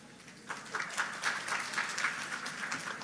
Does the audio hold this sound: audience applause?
yes